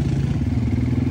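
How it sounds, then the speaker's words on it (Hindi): An ATV engine chugs steadily at low revs with a throbbing, rumbling drone while riding through narrow village lanes in Bali, loud and close throughout. "जितना मैं इस ATV को एंजॉय कर रहा हूँ बाली की इन गलियों में से गुजरते हुए"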